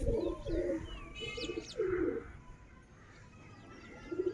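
Black pigeons, of the kamagar or zaakh kind, give low, throaty repeated coos nearby, with faint chirps and a soft background hum.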